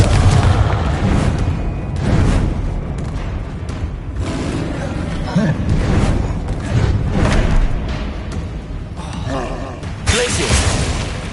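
Repeated blasting-spell explosions in Hogwarts Legacy, several booming bursts spread across the stretch amid other spell effects, with a voice calling out spell names over the combat.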